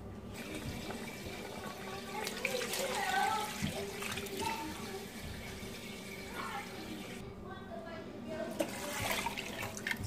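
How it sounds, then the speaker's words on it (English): Water pours and splashes into a cooking pot for soup at close range, with a voice talking over it in the background. "and I'll add more water right now"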